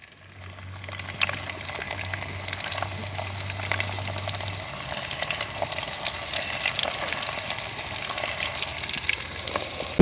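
Dried fish pieces frying in hot oil for a Nellore-style pappulusu dish, giving a steady crackling sizzle throughout with a low hum during the first half.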